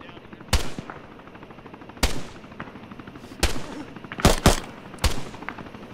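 Gunfire in the military video game Arma: five or six sharp, loud shots or short bursts spaced unevenly over several seconds, each with a decaying tail, over a low background hum.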